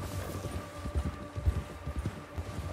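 Horse hooves clip-clop steadily at a walking pace in Red Dead Redemption 2, fairly quiet and close, with no talk.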